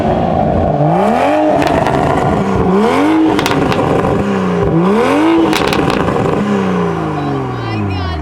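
A Toyota A90 Supra with a titanium valved exhaust revs repeatedly in short blips, each rising and falling sharply, loud and close, with crackles between pulls and one longer rev near the end.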